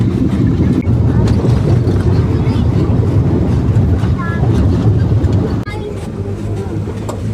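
Steady rumbling engine drone and wind buffeting on open water, as from a motorboat, with faint voices in the background.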